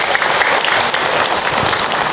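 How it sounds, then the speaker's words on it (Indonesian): An audience at an Indonesian Islamic religious talk claps loudly and continuously, a dense, even wash of hands throughout without pause. "Tepuk tangan buat kita semua."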